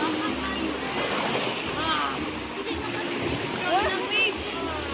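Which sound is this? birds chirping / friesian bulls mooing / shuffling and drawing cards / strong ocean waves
strong ocean waves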